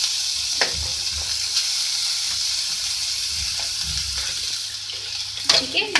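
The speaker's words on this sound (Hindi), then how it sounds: "इसको फ्राई करेंगे" Chopped garlic sizzles steadily in hot oil in a pan, a continuous bright frying hiss with a few soft stirring clinks and scrapes scattered through it.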